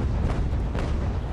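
Ship cannons firing in the age-of-sail naval game Ultimate Admiral: Age of Sail, a loud continuous rumble of booming broadside fire with no break across the short stretch.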